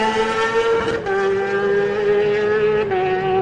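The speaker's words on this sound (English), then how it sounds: "The tap on the shoulder comes and away he goes on the Kawasaki." A Kawasaki classic race motorcycle pulls away from the start of a Manx Grand Prix road race, its engine a loud, close, buzzing whine that climbs in pitch, drops briefly at each gear change, then rises again.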